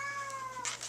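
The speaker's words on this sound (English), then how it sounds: "You can probably hear my cat meowing in the background" A pet cat named Buster gives a short meow or two near the end of a brief moment, over a steady faint background hum.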